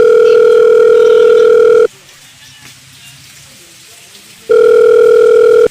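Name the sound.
telephone dial tone while placing a call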